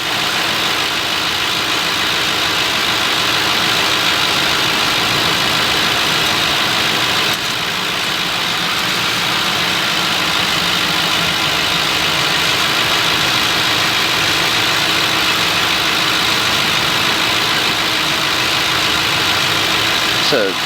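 A warm Ford Crown Victoria engine idles in park with the transmission warm, a steady, even, continuous rumble with a faint whine and no rhythm changes, holding at constant loudness throughout.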